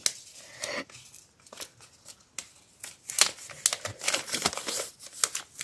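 A small plastic packet is opened by hand with a run of crisp crinkling, rustling and tearing, close and fairly quiet, in short irregular bursts throughout.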